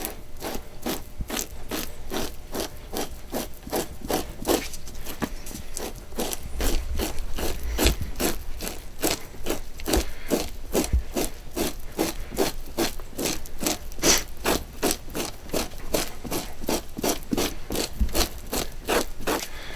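A fleshing tool scrapes fat from an animal hide in a fast, steady rhythm of raspy strokes, close up and continuous, with no talking.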